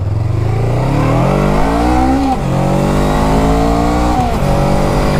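A Honda Rebel 500 motorcycle engine revs loudly and accelerates through the gears, with its pitch climbing and then dropping at each shift. The close, steady engine roar carries on throughout without pause.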